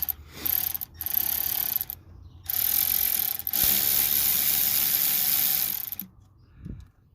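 A hand ratchet tightens the hose clamp on a newly installed cold air intake, rattling off several close, loud bursts of rapid clicking separated by short pauses.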